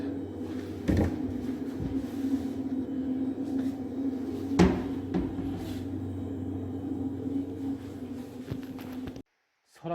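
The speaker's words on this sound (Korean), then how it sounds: "서랍을 다 분리합니다." Drawers are pulled out of built-in furniture in a new apartment being prepared for treatment, giving a few wooden knocks and sliding clunks over a steady low hum, with a faint voice in the background.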